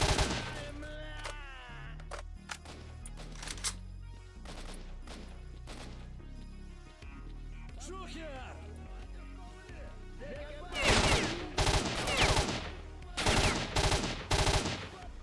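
Rifle gunfire in a video game: bursts of rapid shots and scattered single cracks, with heavier loud volleys near the end, with brief talk between them.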